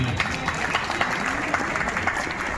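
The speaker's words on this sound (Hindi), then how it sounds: "एक जोरदार तालियां आप बजाएं" Audience applause at the inaugural ceremony of a sports festival in Muzaffarpur, a steady wash of many hands clapping at moderate level, fairly dense and continuous with a faint hum of crowd underneath.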